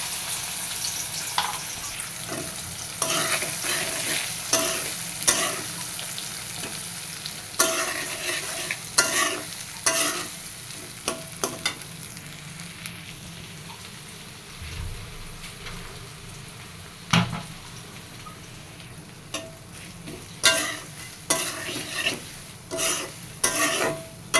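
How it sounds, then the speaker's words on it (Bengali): Chopped onion fries in oil with bay leaf, dried chilli and garam masala, giving a steady low sizzle throughout. Repeated scraping and clattering strokes from stirring come in uneven bursts, with no speech. "পেঁয়াজ ভাজি হয়ে গেছে"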